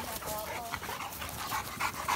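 A big hound dog pants rapidly and wetly up close on a farm with a pack of dogs, the rhythmic breathing continuing throughout at moderate volume.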